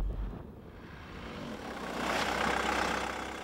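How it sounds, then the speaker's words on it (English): A third-generation Volkswagen Golf diesel, a 1993 model, driving along with its engine clattering; a low, steady engine drone that swells and grows brighter partway through as the car accelerates, heard alone without talk. "you can hear some diesel engine clatter"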